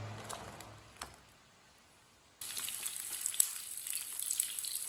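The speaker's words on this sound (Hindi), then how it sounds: "3 मिनट के लिए इसे फ्राई कर लेना है बैंगनों को" Eggplant rounds frying in hot oil in a pan, a soft hiss at first that jumps to a steady, crackling sizzle once the pieces go in, with faint pops throughout.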